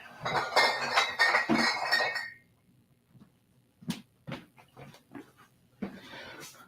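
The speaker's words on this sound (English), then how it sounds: "the sound of clinking bottles possibly falling off the shelf" Glass bottles on a shelf clink and rattle in a dense, bright burst for about two seconds, followed by a few scattered separate clinks and knocks at close range.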